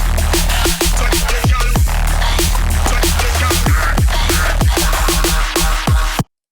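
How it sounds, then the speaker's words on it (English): An electronic track layers vocals, bass and drums together in a loud, dense mix, with punchy drum hits driving a steady beat beneath the voice and a thick low end, cutting off abruptly at the end. "Vox, basses, and drums together now sound like this."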